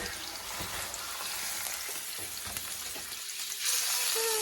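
Chunks of beef sear in a hot pan for Panamanian ropa vieja, giving a steady, dense sizzle with small crackles and a brief stir. The frying swells louder near the end, with no talk.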